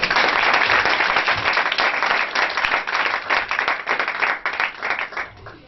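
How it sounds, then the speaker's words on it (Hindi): Church congregation applauding loudly at a New Year service, a dense burst of clapping that gradually thins and fades out toward the end. "खुदावंद की जलाल के लिए जोरदार तालियां।"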